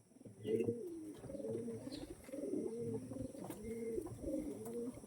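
Pigeons coo in repeated soft, rolling phrases, close and steady, with no talking.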